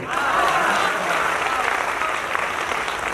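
Loud, dense applause from a crowd at a Chhattisgarhi comedy poetry gathering rolls on steadily for several seconds without a break.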